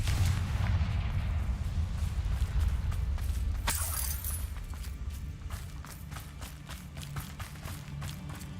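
A Bombarda blasting spell in the wizarding game Hogwarts Legacy goes off as one sharp explosive crack midway, followed by a rapid scatter of crackling debris and impacts over a rumbling low background.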